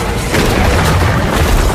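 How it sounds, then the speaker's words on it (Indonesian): Grenade blast in a Monster Hunter film, a loud, heavy, rumbling boom that fills the whole moment with dense low roar and no speech. "seseorang tertusuk dan melakukan bunuh diri dengan melemparkan granat kepada Diablos"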